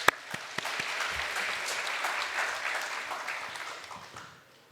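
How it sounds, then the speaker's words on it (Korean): Audience applause in a church at a Friday prayer meeting welcomes a speaker to share a testimony. Steady clapping from the start, fading toward the end. "우리 박수로 환영하겠습니다"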